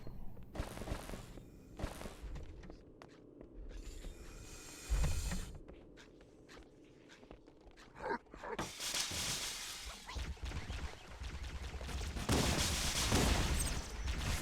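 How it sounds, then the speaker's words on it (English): Halo video game sounds: a sharp glass shatter from meleeing a window, then a plasma grenade throw and a loud, sustained burst of combat noise. Someone talks over it. "2 is meleeing the window to stay stealthed. And 3 is throwing a specific plasma grenade."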